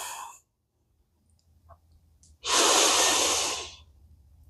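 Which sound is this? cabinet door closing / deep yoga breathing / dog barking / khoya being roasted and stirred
deep yoga breathing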